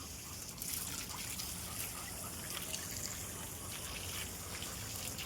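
Water trickles and splashes steadily while a little boy is bathed, a continuous close wash of flowing liquid with no clear pauses. Faint voices sit under it.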